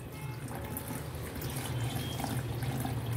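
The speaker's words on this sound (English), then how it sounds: "Now we are going to pour a glass of water into it" Water pours in a continuous splashing stream, like a glassful running into a sink drain, with no voices.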